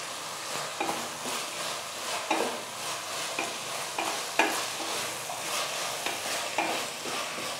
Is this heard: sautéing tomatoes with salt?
yes